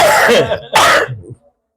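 Two loud, close coughs in quick succession, the second trailing off into a short rasp before silence.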